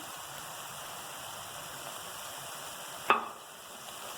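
Spices are stirred into a chicken pizza topping in a hot pan, with a steady close sizzle broken by one sharp clack of a spoon against the pan.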